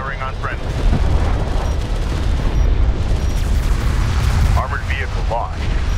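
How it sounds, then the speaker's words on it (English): An enemy railgun fires during desert vehicle combat in Homeworld: Deserts of Kharak, heavy booming blasts rolling over a thick rumble of battle, with brief radio-style voice chatter cutting in near the start and end. "Enemy railgun firing on friendly."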